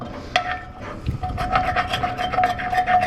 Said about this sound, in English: Scrape all these bits up